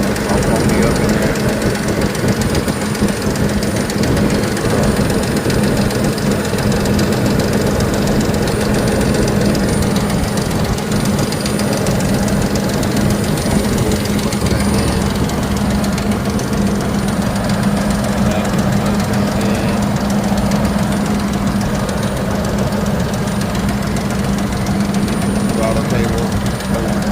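A 2003 Lincoln Navigator engine idles steadily after a water pump replacement, a continuous low hum with a drone near 200 Hz holding for the whole stretch. Faint workshop noise may sit underneath.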